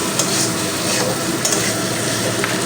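Winter vegetables with paneer sautéed in spices in a pan, a continuous close sizzle mixed with the scrape and clatter of stirring, loud and steady for the whole stretch.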